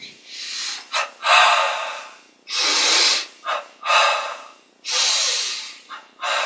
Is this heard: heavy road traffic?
no